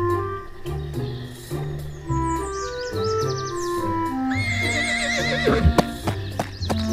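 A horse whinnies in a long rising and falling call while hooves clip-clop in a steady rhythm, close and clear, with faint bird chirps in the background; no voices.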